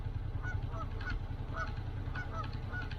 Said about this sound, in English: Got a couple geese over there.